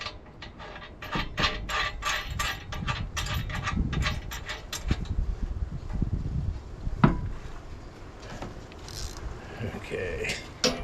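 A ratchet wrench tightens a bolt on a fifth wheel hitch on a 2018 Ram 3500 dually pickup, giving quick runs of sharp clicks in short bursts, then quieter handling and faint metallic clatter near the mic.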